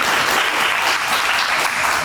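Steady round of audience applause at a community ward meeting, even and continuous throughout a brief stretch with no voices over it.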